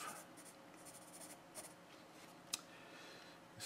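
A pencil scratches across paper in quiet, soft strokes of irregular rhythm, close and faint, with one sharper tap partway through and no talking.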